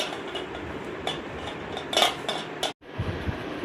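A spoon mixes gobi manchurian batter in a bowl, giving close, steady scraping and clinking against the bowl with a brief pause near the end before the mixing starts again, no speech.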